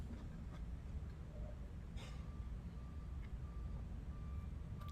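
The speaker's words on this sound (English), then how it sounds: "this backing up truck's fun." Faint, evenly spaced reversing beeps come from a truck backing up outside, heard through thin windows over a steady low background rumble, with a brief clatter partway through.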